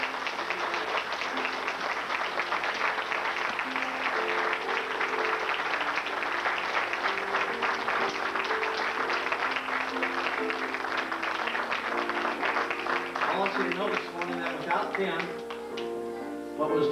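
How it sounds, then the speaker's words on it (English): A church congregation at an Easter service claps steadily for play performers, a dense, continuous round of applause with some voices mixed in. "Give them another hand clap."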